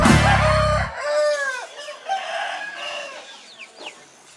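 A rooster crows loud and near, its drawn-out call sliding up and down, followed by fainter crowing and clucking from other chickens on a farm.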